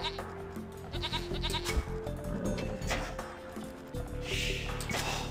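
Sheep bleat in a round of Age of Empires II, several wavering game-animal cries over background music and game effects, moderately loud and close.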